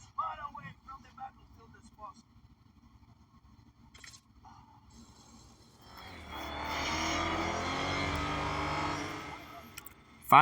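Race cars in Need for Speed No Limits during a rush hour race, engines swelling into a loud sustained roar in the second half after quieter, sparse game sounds.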